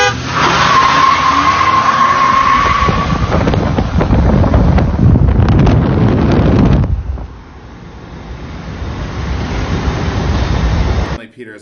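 A 2.7 EcoBoost truck launches hard from a standstill in a race, engine roaring loud and close with wind buffeting and tire noise for several seconds before fading to a lighter rumble.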